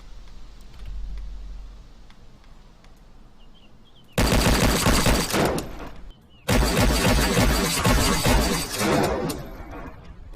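Loud sustained automatic fire from an FN FAL assault rifle in the DayZ video game, two long bursts at close range separated by a brief pause, after quieter background ambience.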